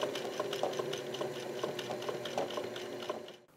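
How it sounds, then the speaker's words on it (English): A sewing machine stitches a zigzag seam on fabric corners, a steady rapid mechanical whirr with fine needle ticks running loud and close for about three seconds before stopping abruptly. "And then finally, I do the zigzag stitch"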